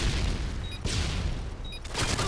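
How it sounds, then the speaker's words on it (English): A stun grenade in a video game bursts with loud, dense blasts that fill the short moment, two heavy bangs a second apart over a constant roar of game noise. "Throwing a stun grenade."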